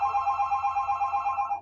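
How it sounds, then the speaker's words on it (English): A telephone rings with a steady electronic warble, pulsing repeatedly and loud, close and alone with no voices. "Freaking phone, who's calling?"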